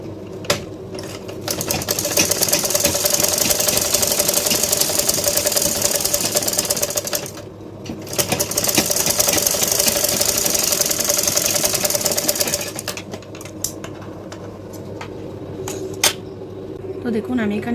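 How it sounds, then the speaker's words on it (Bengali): A sewing machine stitches a lehenga blouse in rapid, steady bursts of mechanical whirring, stopping briefly between runs and then resuming, close and loud, with a voice speaking at times. "এখন সেলাই করে নেব।"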